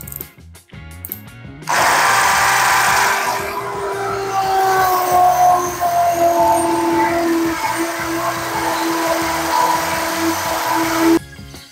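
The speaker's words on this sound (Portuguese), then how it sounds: "Muito duro mesmo o material, estamos forçando bastante, praticamente furou aí 1 centímetro, bloquinho maciço aí de concreto." An Einhell 18V brushless drill with a 10 mm bit grinds steadily into a solid concrete paving block, a loud continuous whine with a rising pitch that holds for about ten seconds after a short start, then cuts off.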